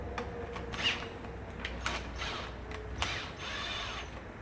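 Close, dry clicking of a ratchet working transmission pan bolts loose on a 2005-2009 Buick LaCrosse, in short bursts with brief pauses between, with faint metallic creaks and no talk.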